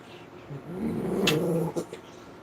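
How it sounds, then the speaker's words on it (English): A dachshund growls in a low, rumbling tone that swells and wavers for about two seconds before a few short sharp sounds at the end. "you better quit growling at me"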